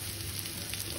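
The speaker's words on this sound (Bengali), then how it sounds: "আমরা এখন হচ্ছে আলুটাকে একটু ভাজা ভাজা করে নিব" Potatoes fry in oil in a pan for a chana curry, giving a dense, steady sizzle heard close and continuous throughout.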